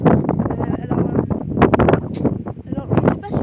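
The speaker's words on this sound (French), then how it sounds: "je sais pas si vous m'entendez très bien avec le vent" Strong outdoor wind buffets the microphone in a constant rumbling roar while someone talks over it.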